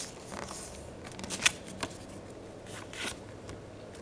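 A square sheet of paper being folded in half for an origami samurai helmet, giving soft, quiet crinkles and light scrapes with a couple of brief crisp creases, close and alone.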